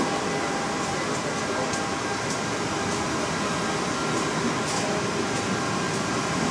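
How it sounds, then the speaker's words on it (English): An Objet Connex 500 3D printer runs while printing a giant wrench, a steady mechanical whir and broadband hum with faint periodic ticks, unchanging throughout. "here we have the Object Connex 500 machine"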